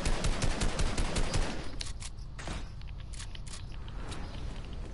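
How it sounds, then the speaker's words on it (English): Video game gunfire rattles in rapid automatic bursts, loud and dense for the first couple of seconds, then thins to scattered shots over continuous game noise. "I'm shooting."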